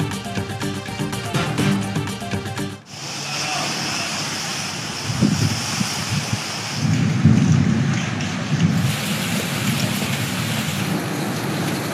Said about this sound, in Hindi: पंजाब के कई शहरों में मूसलाधार बारिश, गर्मी का जोर टूट गया।